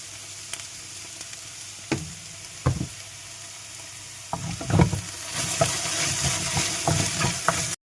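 Cut okra (lady's finger) sizzles steadily in a pan while being stirred for a Tamil vendakkai poriyal, with scattered clacks of a spoon against the pan and the frying growing louder and denser toward the end; no one speaks.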